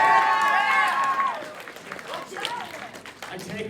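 Convention panel audience clapping for Banjo-Kazooie, a brief burst of applause and cheering that fades under a speaking voice, with crowd murmur continuing.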